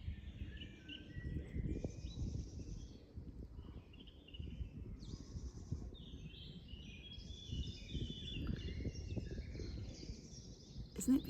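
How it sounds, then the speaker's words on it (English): Birds chirp and sing intermittently in the high range, scattered calls overlapping above a steady low rumble, fairly distant and soft. "can you just hear the bird song that's going on?"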